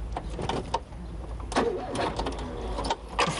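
A flooded car engine cranks repeatedly without catching, a rough stuttering mechanical churn close by with short bursts and pauses, heard alone.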